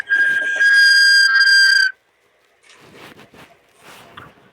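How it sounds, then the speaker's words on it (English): A person whistles a loud, steady tune for about two seconds, close by, before falling silent; faint rustling and movement follow in an otherwise quiet indoor room. "Somebody's whistling for me."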